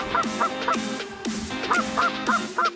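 Geese honk repeatedly in a goose hunt. The calls come in rapid overlapping bursts, loud and fairly close, over outdoor background noise.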